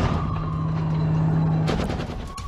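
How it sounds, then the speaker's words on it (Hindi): A Russian BMPT Terminator tank firing: a steady mechanical drone gives way to a sharp, rapid burst of loud, close gunfire reports. "BMPT टर्मिनेटर टैंक से रूस ने किया ताबड़तोड़ फायर।"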